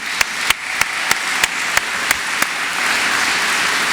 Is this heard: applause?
yes